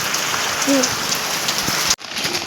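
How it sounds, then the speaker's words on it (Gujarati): Steady rain patters densely on a surface, a constant hiss with a brief faint tone midway and an abrupt cut near the end. "વરસાદ આવી ગયો છે"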